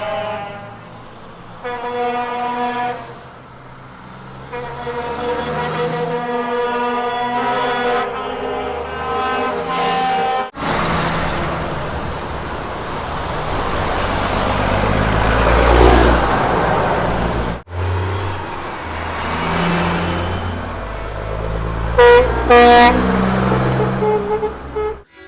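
A truck convoy passes in batches on a busy Adelaide road, mixed with regular traffic. Loud, sustained truck and car horn blasts sound near the start and end, with a roaring wash of engines and tyres passing close by in between.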